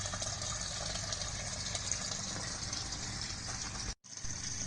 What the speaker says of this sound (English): from the tank, we're using the pump to pump out the water